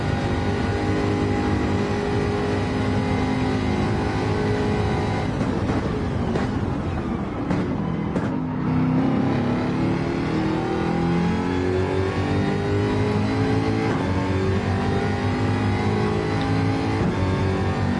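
GR3 Jaguar race cars in a racing video game rev and accelerate steadily, a loud sustained engine drone that swells and shifts pitch with gear changes and throttle over a continuous background roar.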